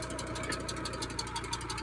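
A tractor's diesel engine powering a water pump in a village chugs at a steady idle with rapid rhythmic knocking, close and continuous.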